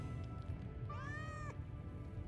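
A single cat meow from the video game Final Fantasy VII Remake, a short, clear rising-and-falling mew lasting about half a second over a steady low game ambience.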